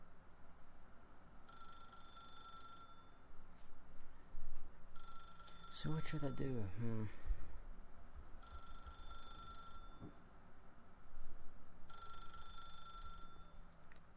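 A telephone rings repeatedly in The Stanley Parable, a video game, with regular bursts of ringing separated by short pauses; someone talks over part of it and a brief musical flourish cuts in midway.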